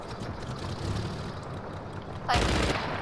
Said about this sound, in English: their guns sound loud